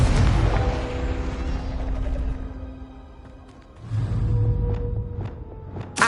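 The Confringo fire spell in Hogwarts Legacy bursts loudly at the start with a crackling roar that fades, then a second heavy whoosh follows, trailed by sharp crackling snaps.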